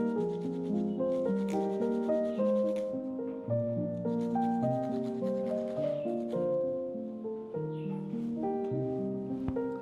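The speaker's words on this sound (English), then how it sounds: "I'm just going to grate some garlic in here" Garlic being grated finely on a fine cheese grater, a run of repeated scraping rubs in an uneven rhythm, close and fairly loud, carrying on for about ten seconds with no voices.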